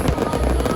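A New Year fireworks display near an electronic clock tower bursts in dense, overlapping crackles and booms, loud and continuous with a hazy rumble underneath.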